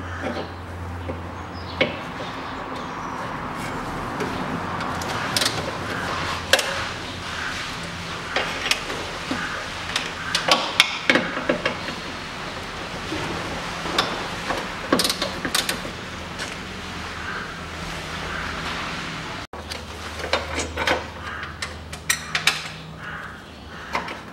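A ratchet wrench unscrews the bracket bolts on a Chevrolet Lanos manual gearbox, making irregular mechanical clicking, ratcheting and metallic clinks at close range, with a quiet background hum.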